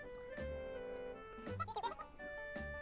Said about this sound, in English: Look, a sheep.